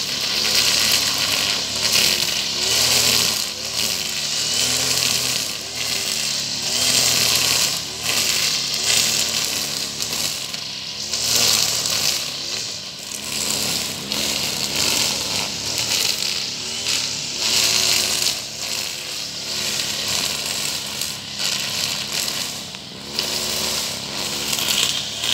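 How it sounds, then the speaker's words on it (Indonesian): A loud motorized brush cutter runs continuously close by, cutting grass over stony ground beneath trees, its engine whine rising and dipping slightly as it cuts, with no voices. "Ini lagi potong rumput di bawah pokok-pokok ini"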